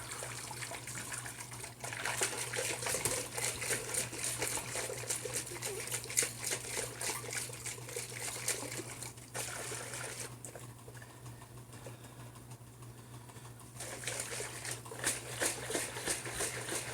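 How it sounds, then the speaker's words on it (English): Water and honey swished inside a plastic bottle while mixing a mead must, a steady sloshing and liquid churning that runs throughout, dipping briefly around the middle before resuming. "You're going to swish this around until the water and the honey are nice and mixed."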